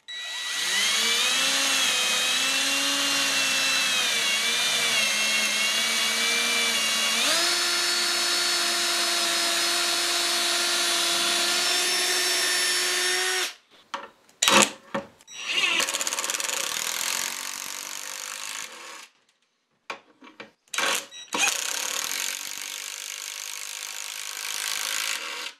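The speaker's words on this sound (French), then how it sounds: "j'ai utilisé deux outils différents. Une perceuse à percussion et une clé à choc" A hammer drill and an impact wrench drive screws into a wooden workbench leg: first a long steady whining drill run with pitch shifts, then short loud rattling bursts of the impact wrench separated by silences.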